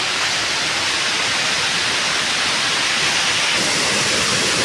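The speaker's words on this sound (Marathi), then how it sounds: "त्याची वरची बाजू आहे बघा धबधब्याची" Water pours down Kinalos waterfall in Konkan, Maharashtra, heard from its upper side as a loud, unbroken hissing rush of falling water, close and steady throughout.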